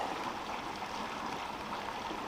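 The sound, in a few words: Horse Canyon Creek flowing after a flash flood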